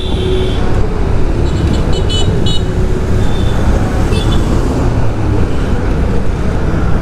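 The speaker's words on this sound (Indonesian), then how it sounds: "Aduh, ini rombongan mobil Pemda nih." A convoy of local government cars passes along the Pantura coastal road between Semarang and Rembang in Central Java. Loud, steady traffic rumble fills the whole stretch, with a few brief horn-like tones near the middle.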